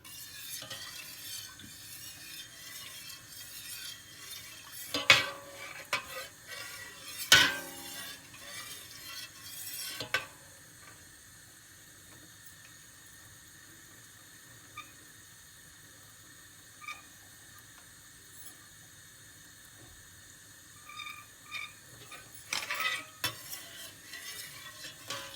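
Two litres of milk are heating in a pot for homemade vanilla ice cream and being stirred. Soft scraping and occasional clinks sit over a faint, steady simmering hiss.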